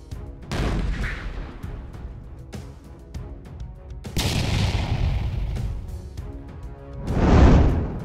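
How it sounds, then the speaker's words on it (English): Combat sounds of artillery fire and gunfire during shelling in the Ukraine war: repeated heavy booms and sharp reports at varying distance, some close and loud, others duller, with no talk. "Ukrainian artillery pounded key enemy locations, creating chaos and limiting Russian response capabilities"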